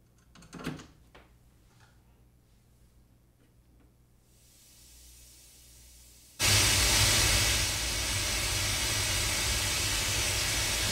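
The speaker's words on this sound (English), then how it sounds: "That is pink noise." After several seconds of near silence with a few soft clicks, a loud, steady pink-noise rush starts abruptly and holds, full and even with a weighty low end.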